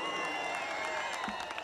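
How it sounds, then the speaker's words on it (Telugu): An audience claps at the Dhruva film pre-release function, a steady, fairly soft wash of applause heard from a distance with no other sound standing out. "చప్పట్లు కొట్టండి"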